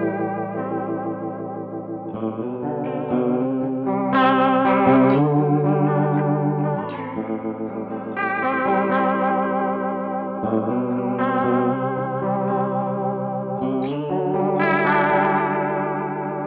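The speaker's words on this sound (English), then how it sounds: "That's always been a long time favorite sound of mine, the rotating speaker." A sustained guitar chord played through a rotating speaker effect swirls and warbles with a pulsing chorus-like shimmer, several chord changes ringing out alone without any talking.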